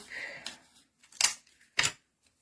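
Adhesive tape is pulled off a roll with a short ripping sound and then cut in two crisp, separate snips, close by and quiet between them.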